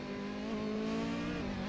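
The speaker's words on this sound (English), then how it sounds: "The engine sounds terrible, though. It doesn't sound like a Ferrari, boys." A Ferrari hybrid race car engine in a racing game, a steady droning hum at constant moderate revs, close and unbroken, with no voices.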